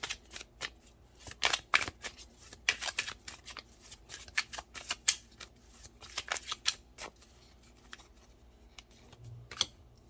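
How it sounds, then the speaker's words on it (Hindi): Close, crisp riffling and slapping of tarot cards being shuffled, with bursts of rapid flutter and a few cards dropping onto a surface, then quieter handling toward the end. "सारे कार्ड्स गिर रहे हैं आपके"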